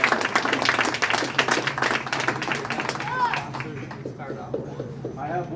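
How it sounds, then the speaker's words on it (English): An audience gives a round of applause for a barefoot walker crossing the USA, with steady clapping that thins out toward the end while voices talk over it. "Can everyone give him a round of applause?"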